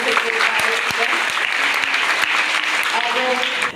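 A crowd at a school award ceremony applauds loudly for prize-winning students, a thick, sustained clapping with sharp individual claps and faint voices mixed in.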